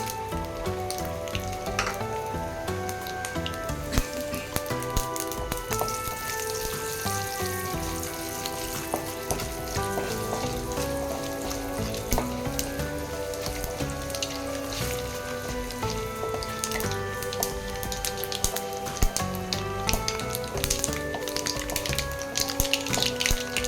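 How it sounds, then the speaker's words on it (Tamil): Mustard seeds, chana dal and urad dal fry in hot oil with a dense, continuous crackle and rapid popping that stays even and close throughout, with a faint tonal background underneath. "கடுகு, கடலைப்பருப்பு, உளுத்தம் பருப்பு எல்லாம் போட்டுக்கலாம்."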